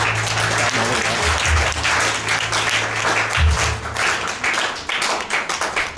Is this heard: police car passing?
no